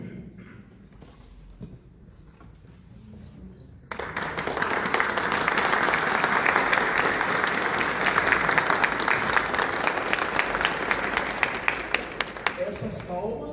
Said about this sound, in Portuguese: Essas palmas eu estendo também a vocês